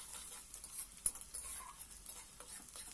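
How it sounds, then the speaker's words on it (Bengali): A metal spatula stirs onions frying in a pan, making soft, irregular scraping strokes over a faint, steady sizzle, quiet and close with no talking. "বারবার খুন্তির সাহায্যে পেঁয়াজগুলো নাড়তে থাকবেন"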